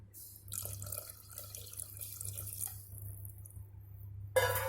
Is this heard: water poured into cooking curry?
yes